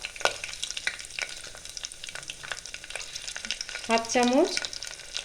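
Two dried chillies, two slit green chillies and nigella seeds fry in hot oil for a white potato curry, a faint sizzle with repeated stirring taps, and a voice speaks briefly near the end.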